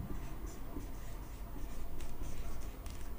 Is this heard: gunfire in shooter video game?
no